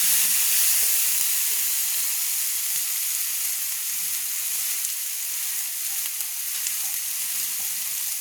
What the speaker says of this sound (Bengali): একটু ভালো করে নেড়ে নিচ্ছি মশলাটাকে আমি কষিয়ে নিচ্ছি